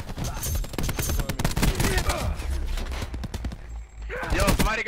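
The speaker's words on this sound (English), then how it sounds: "I'm shooting this dude" Rapid bursts of gunfire in the video game Call of Duty: Black Ops 4, repeated shots cracking in quick succession with players talking over the top.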